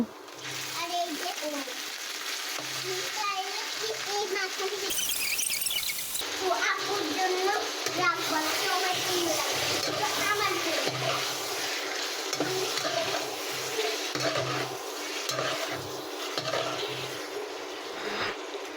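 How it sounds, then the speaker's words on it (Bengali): Beef going into a pan of browned frying onions in a home kitchen, with steady sizzling and the scrape of stirring. A short burst of louder hiss comes midway, and a person talks over it throughout. "এখন আমি মাংসগুলো এর মধ্যে অ্যাড করে দেব।"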